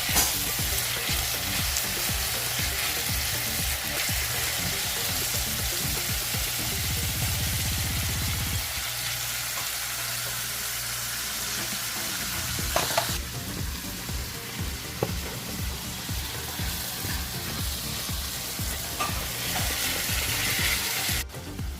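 Peppers and green seasoning fry in a pot with a dense, continuous sizzle, dotted with stirring scrapes and clicks as the food is moved around.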